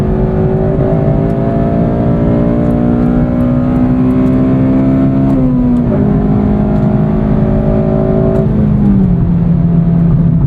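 A loud, close 2009 Honda Civic Si engine drones and revs, pitch climbing steadily then dropping briefly at each gear change.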